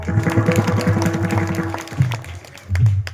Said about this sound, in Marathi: क्या बात आहे, टाळ्या वाजवायच्या.